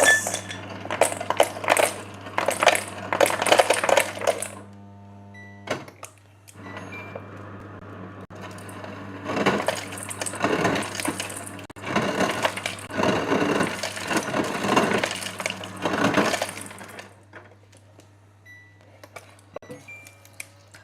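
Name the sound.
ice from a fridge dispenser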